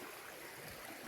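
A mountain creek runs in a low, soft, continuous trickle and gurgle somewhere nearby, with a brief splash or knock right at the end.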